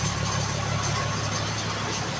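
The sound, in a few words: Toyota HJ61 Land Cruiser engine idling after starting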